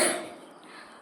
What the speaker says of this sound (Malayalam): ഇടയ്ക്ക് ചുമ, അത് പനി മാറിയപ്പോൾ ചുമയായി